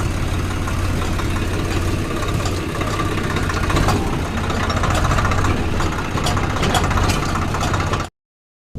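A farm tractor's engine runs loud and steady at close range, a continuous low rumble with no talk over it, cutting off abruptly near the end.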